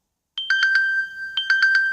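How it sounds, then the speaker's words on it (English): A Samsung Gear S3 smartwatch plays its ringtone, two short bursts of bright, rapid electronic chime notes separated by a brief pause, clear and close with no talk. "you can increase or decrease your ringtone"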